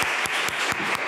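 A church congregation claps in unison to welcome a visitor during a Sunday worship service, five steady, evenly spaced loud claps filling a short burst.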